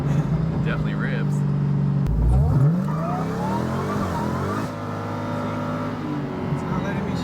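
A car with a damaged transmission drives along, its engine droning and shifting pitch with a whining rise and occasional tire noise, while people talk over it inside the cabin.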